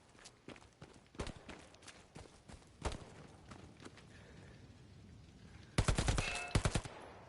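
Gunfire from the Hell Let Loose video game, a World War Two shooter: scattered single shots and short bursts, some distant and some close, ending in a loud, rapid cluster of nearby shots.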